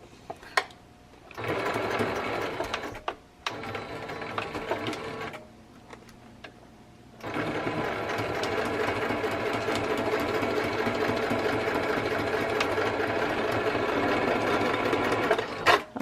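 A sewing machine runs a straight stitch through a mini album cover, its steady mechanical whir starting and stopping in short bursts before settling into a long continuous run, close and fairly loud with no talking.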